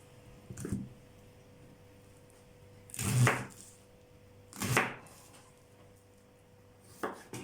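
Purple cabbage being finely sliced with a knife on a board, with a few separate crisp chopping strokes spaced over several seconds against a quiet background.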